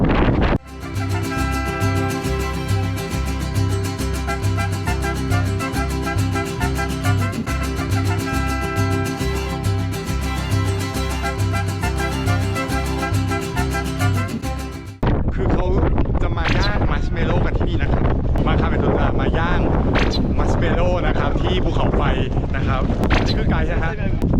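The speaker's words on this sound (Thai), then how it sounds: "ลมแรงมากนะฮะเนี่ยเนี่ยโกโปรจะตัดเสียงลมได้ไหมนะครับ" Strong wind buffets the microphone high on Pacaya volcano in Guatemala, a steady roaring rush lasting throughout, harsh and loud, shifting to a rougher, gustier texture partway through.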